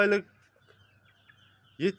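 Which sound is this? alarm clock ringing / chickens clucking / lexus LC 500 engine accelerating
chickens clucking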